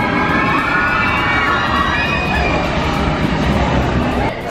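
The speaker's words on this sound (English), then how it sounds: "Can you hear the screams?" Riders screaming on the Expedition Everest roller coaster at Disney's Animal Kingdom, a dense, steady wash of distant shrieks and crowd noise with rumbling ride sound underneath, continuous throughout.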